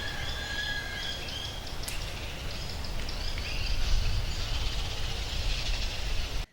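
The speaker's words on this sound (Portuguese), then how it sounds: "Por aqui, o único barulho é o dos pássaros." Birds chirping and calling in an open park, scattered high twitters over a steady low rumble of ambient outdoor noise.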